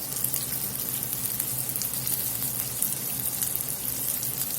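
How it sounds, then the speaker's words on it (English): Scallops sizzling in a hot skillet, a steady bright hiss and crackle held at a low, even level close by, with no talking. "when they hit the skillet, they need to be a sizzling"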